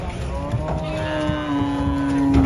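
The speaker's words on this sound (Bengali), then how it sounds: "একসাথে মিডিয়াম সাইজের চমৎকার গরু আনলোডিং চলছে" Medium-sized cattle being unloaded at Hazratpur cattle market in Bangladesh, with one drawn-out moo rising clearly above a continuous busy outdoor rumble and background noise, no speech.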